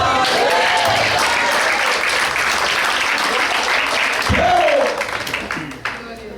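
A church congregation applauds during a Spanish-language sermon, loud dense clapping filling the room and then tapering off near the end as a voice rises over it.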